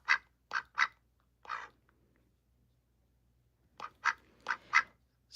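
A gray duck quacks in a lively run of loud, close calls, four sharp quacks, a pause, then four more, with no talking and little else in the quiet background.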